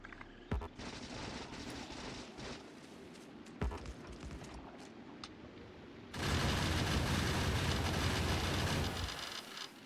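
Automated gun turrets in the video game Factorio rattling off rapid bursts of fire, with a few sharp isolated shots, then a dense, loud sustained barrage of gunfire before trailing off.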